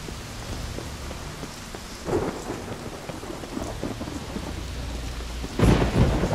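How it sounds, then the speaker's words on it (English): A thunderstorm in the video game The Witcher 3: steady rain hisses throughout, and low thunder rumbles build twice, the second loud and close near the end. "The storm, damn it."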